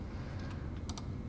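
Several quick, light keystrokes tapped on a computer keyboard while entering a value into gas blending software, faint and close against a low steady room hum, with no speech.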